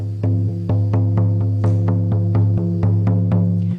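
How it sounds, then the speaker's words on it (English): Steady, even drumbeats on a deep, resonant shamanic drum, roughly two strikes per second, close and unaccompanied. "Okay, so the drumming is going to sound like this."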